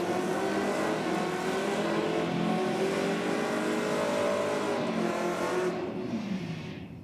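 Race cars revving at a drag strip, heard as a sustained engine drone whose pitch climbs and then holds before fading away near the end, with no talking.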